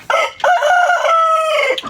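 A hill rooster crows close and loud in one long, strained cock-a-doodle-doo lasting nearly two seconds, heard alone.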